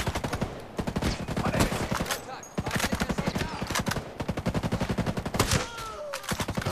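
Rapid automatic gunfire empties a magazine in the video game Ghost Recon Breakpoint, with dense bursts of shots crackling almost continuously and brief pauses between strings, loud and close, with some voice chat mixed in.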